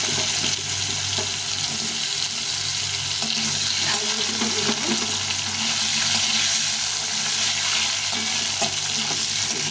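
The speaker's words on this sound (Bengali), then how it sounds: "আর তেজপাতা দিয়ে এখানে আলুটাকে ভেজে নেব" Potato chunks fry in a pan with cumin and bay leaf, a steady close sizzle running throughout with occasional stirring scrapes and faint watery crackle.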